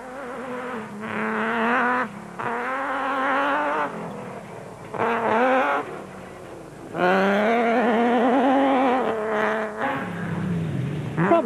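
A 3.5-litre V6 Nissan Hardbody racing truck at the Limpopo 400 rally, engine revving loudly in long rising and falling pulls between gear changes, brief dips where it lifts off, close and dominant.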